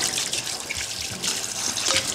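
Water runs steadily from a tap while cow's feet are washed for mocotó, a continuous hissing splash with small bursts of spattering, close and fairly loud.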